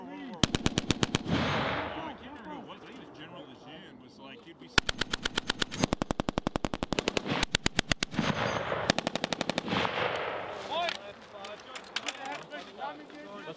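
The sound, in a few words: machine gun live-fire by U.S. Marines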